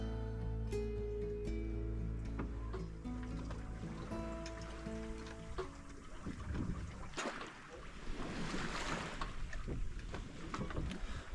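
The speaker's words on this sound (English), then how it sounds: "And just as it always does, the wind returns." Wind buffets the microphone and water rushes around a small engineless sailboat offshore in the Bahamas, a steady, close, whooshing roar with a low rumble that roughens in the second half.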